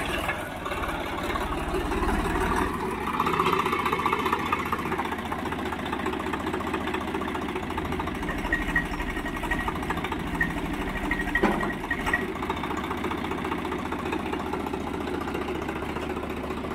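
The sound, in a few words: Swaraj tractor engine running during a test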